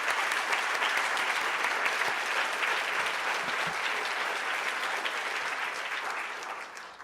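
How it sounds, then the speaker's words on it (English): An audience at a literary awards ceremony applauds steadily, a dense, even wash of clapping that holds for several seconds and then tapers slightly, with no speech over it. "Let's give her a round of applause."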